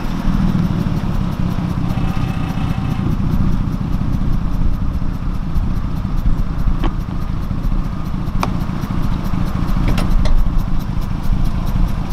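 A vehicle engine just started and left running, holding a loud, steady idle rumble with a fast, even clatter throughout and a few faint clicks over it.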